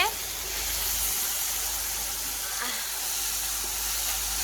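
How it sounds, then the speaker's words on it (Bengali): Steady, loud sizzling of small puti fish frying in hot oil, a continuous crackling hiss that holds throughout. "পুঁটি মাছ কটা ভেজে দিচ্ছি"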